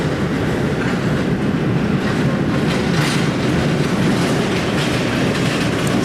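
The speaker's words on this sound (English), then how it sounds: "Those pallets are down there. God, they make a noise." Cargo pallets on the ground at Manchester Airport give off a loud, continuous rattling clatter that stays steady throughout, with no voices.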